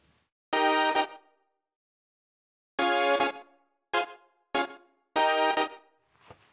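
A Kurzweil Forte synthesizer plays the melody of a well-known song as a series of bright, harmonically rich stabs: two long notes, then three short ones and a final sustained note, all loud and separated by silence.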